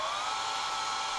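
A small drill spinning a finishing nail as a makeshift bit, boring into a wooden test piece for a Christmas sleigh; a steady, close, high whine holds without a break for about a second, with no voices.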